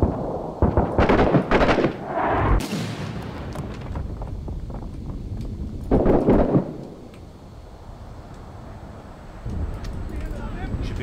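Gunfire from the war game 6 Days in Fallujah: heavy, booming shots and blasts in a few loud clusters, followed by quieter rumbling, with voices talking over parts of it.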